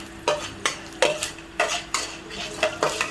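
Pirandai (veldt grape) and chana dal being stirred in a pan until golden, with repeated spoon scrapes against metal at a steady rhythm over a soft frying hiss.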